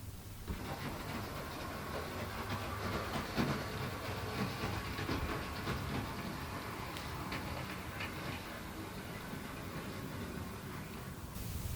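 HO scale model train rolling along a model railway track: a continuous, fairly quiet rumble with light clicking rail-joint ticks throughout, steady and close, with no talking.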